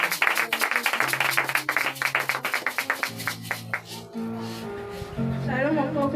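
Church congregation at a prophetic message service clapping in a steady rhythmic beat that gradually loosens into scattered claps, with a voice speaking over it.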